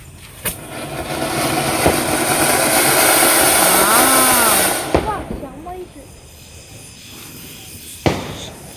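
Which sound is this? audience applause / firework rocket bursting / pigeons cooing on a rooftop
firework rocket bursting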